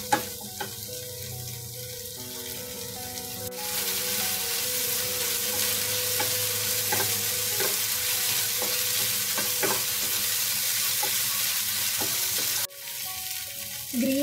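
Green peas, onion and tomato sizzle and fry in a pan while a spoon stirs them, a steady loud hiss with scraping strokes, briefly quieter at the start and again near the end.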